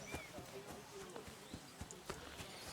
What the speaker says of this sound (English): Look at that horse.